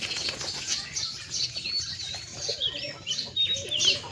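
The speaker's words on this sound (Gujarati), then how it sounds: "અહીં છે આપણા કબૂતર નીચે રમે છે 4-5 કબૂતર।" Pigeons flap their wings close by in several quick, fluttering bursts, mixed with a few light chirps and soft calls.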